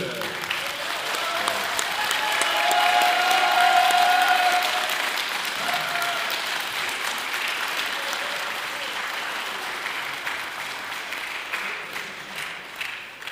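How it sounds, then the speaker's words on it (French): A crowd at a solidarity meeting for Goodyear workers in Mulhouse gives Michael Wamen a long, steady round of applause. The dense clapping swells early, then holds at an even level throughout. "avec Michael, qu'on peut applaudir d'ailleurs, Michael Wamen qui est venu"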